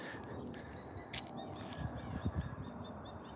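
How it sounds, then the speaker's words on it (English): Several birds call faintly over a steady outdoor wash, with a few harsh caw-like cries standing out now and then. "But yeah, you can hear all the birds."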